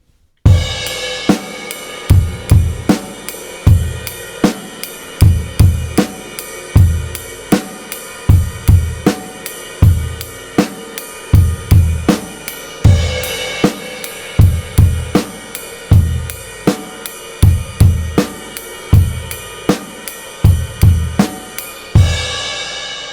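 A simple drum set groove plays with ride cymbal and eighth notes on the bass drum in a steady, loud, unbroken rhythm, opening with a crash and closing with another crash.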